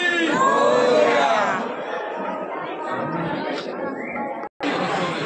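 A large crowd of devotees fills Ranjangaon Ganpati temple before dawn, with a loud chanted shout at first that settles into a steady murmur of many voices and distant chatter.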